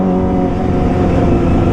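A Kawasaki ZX25R motorcycle with a loud aftermarket Leovin LP10 exhaust, riding through a narrow alley, gives a steady, close, droning engine note with a strong low rumble and no pauses.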